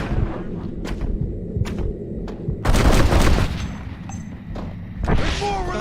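Gunfire in the Red Dead Redemption video game: a string of sharp, booming shots spaced across a busy game soundscape, with a louder cluster of blasts midway and voices mixed in at moments.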